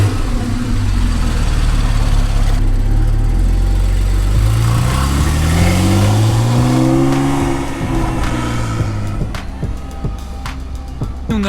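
Porsche 911 50th anniversary edition with exhaust valves open, engine firing up and revving loudly nearby in rising and falling sweeps, then settling toward idle with a few sharp crackles near the end.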